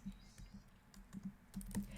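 Quiet typing on a computer keyboard, a short run of light, irregular key clicks close by, over a low hum.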